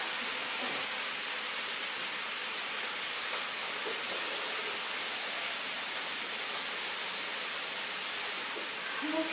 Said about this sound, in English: And then I'll add a little bit of water.